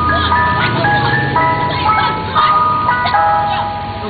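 A tinkling electronic jingle from an ice cream truck on a street, loud and close, with its bright melody repeating throughout the few seconds.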